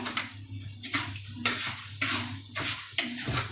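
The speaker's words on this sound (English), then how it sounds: "fry my arborio a little bit in the pan" Arborio rice frying in a pan, with scraping utensil strokes against the pan repeating every half second or so over a faint background sizzle, close and without talk.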